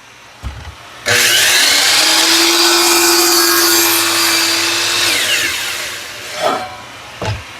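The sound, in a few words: power saw cutting wood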